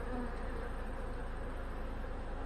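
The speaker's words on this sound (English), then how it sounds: "And this many bees, it's hard to keep them from getting up under your fingers so you don't squish a bunch of them." A dense, steady hum of many honey bees at an open hive as frames of brood are worked, loud and close, continuous buzzing with no talk over it.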